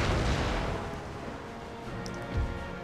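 A ship's cannon broadside in Empire Total War, heard as a loud, rumbling roar of cannon fire that slowly fades, then a second deep boom near the end.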